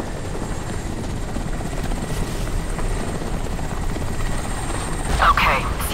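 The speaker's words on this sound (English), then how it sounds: "That helicopter." A helicopter's steady rotor thrum drones close and loud throughout in the video game Crysis Warhead, with a brief sharper burst of noise near the end.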